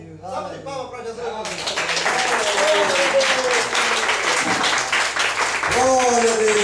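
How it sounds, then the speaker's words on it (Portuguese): A church congregation bursts into sustained, dense applause after a brief stretch of speech, the clapping loud and steady for several seconds before a voice returns briefly near the end. "Salve de palmas para Jesus."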